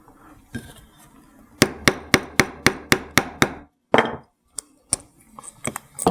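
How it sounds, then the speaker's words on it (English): Steel hammer striking metal hardware on a hard surface while making a steampunk bracelet, a quick run of about eight sharp, ringing blows followed by a few scattered knocks and handling clatter. "I'm just going to make sure I hold on to the piece while I'm hammering."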